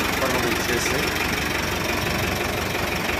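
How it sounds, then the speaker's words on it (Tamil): A Tata Motors LPT tipper truck's diesel engine idles close by with a steady, dense rumble and knocking clatter that continues unbroken throughout. "இன்ஜின் நாய்ஸ் வந்து பாருங்கள்"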